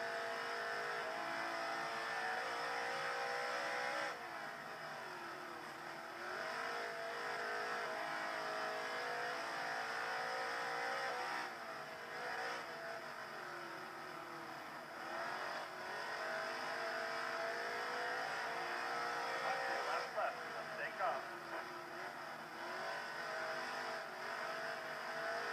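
A race car engine roars steadily on a dirt track in NASCAR Heat 3, the car pulling away from rivals during a Las Vegas dirt race, revving loud and continuous with slight pitch swells as it accelerates.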